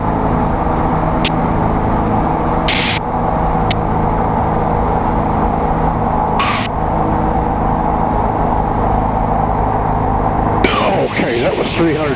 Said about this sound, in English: I'm going to go full throttle, and I'm going to make a steep turn to the left.